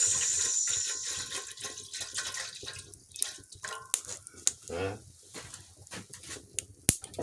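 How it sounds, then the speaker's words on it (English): Water is poured into a pot while tea for six is made over an outdoor village cooking fire in Africa, giving splashes and drips with a few sharp clinks, amid faint background voices. "So time to add water."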